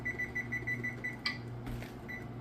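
A kitchen timer is set beside a pressure canner of green beans, giving a quick run of evenly spaced short electronic beeps, then a clatter and one more brief beep, close and fairly quiet with no talking.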